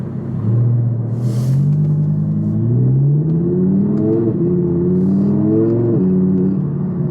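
A first-generation Audi R8 supercar engine revs up in rising, sweeping pulls with its valves closed, a deep throaty rumble climbing and dropping several times, close and loud with no talking.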